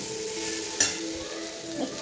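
Pounded ginger goes into a hot frying pan, producing a soft steady sizzle with one sharp utensil clack and a brief scrape of stirring.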